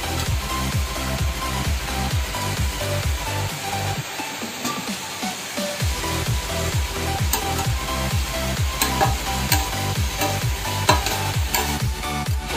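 Kothu parotta mixed with salna is chopped and fried on a tawa, metal blades striking the griddle in a fast rhythmic clatter over a constant frying hiss, with a brief pause in the chopping partway through.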